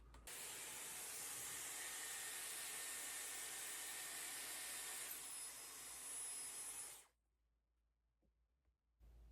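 An Airwrap hair styler blows a loud, steady rush of air into the roots of a short bob for about seven seconds. A faint whine rises near the end, then it cuts off and the room goes quiet.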